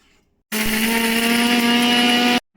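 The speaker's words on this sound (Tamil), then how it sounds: "வெங்காயம், தேங்காய் இதெல்லாம் போட்டு நம்ம இஞ்சி இதெல்லாம் போட்டு நம்ம அரைக்க போகிறோம். வாங்க அரைக்கலாம்." A kitchen mixer grinder grinds onion, coconut, ginger and spice powder, switching on abruptly for a loud, steady whirring run of about two seconds before cutting off.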